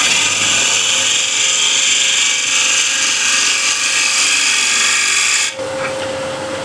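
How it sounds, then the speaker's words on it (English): Ash wood spinning on a lathe as a spindle gouge roughs it down, a loud continuous whine and scraping roar that holds steady, then drops to a quieter hum near the end. "Now I'll use a spindle gouge just to rough this down a little bit"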